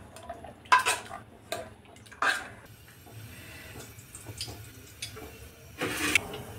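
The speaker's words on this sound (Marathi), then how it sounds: "आपण याला मॅशरच्या साहाय्याने मॅश करून घेऊया।" Cooked lentils for sambar being mashed with a masher in a metal pot, with a few sharp clanks and scraping knocks spaced unevenly over a low background.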